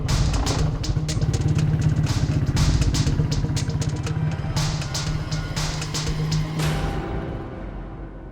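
A motorcycle idles after stopping, a steady low engine throb with clattering ticks running throughout, close and fairly loud, fading slightly at the end with no talk.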